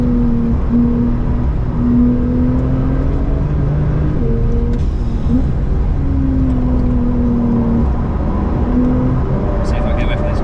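A crash-damaged Porsche Carrera 911 driving on the Nurburgring, heard as a steady loud engine drone from inside with rising and falling pitch as it shifts through gears, along with constant road and wind roar and a voice talking over it.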